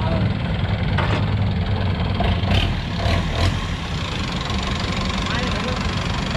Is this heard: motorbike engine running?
yes